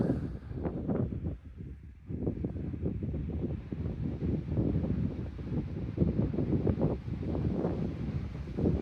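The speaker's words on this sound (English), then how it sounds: "The wind is picking up" Strong wind gusts on a mountain trail within sight of Mount Shasta, buffeting the microphone in a loud, continuous low roar with fluttering surges throughout.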